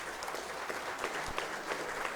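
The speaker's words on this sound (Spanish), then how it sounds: "un aplauso para todos ustedes," Audience clapping at a national cooperatives congress, a brief steady burst of applause from the crowd with no voices over it.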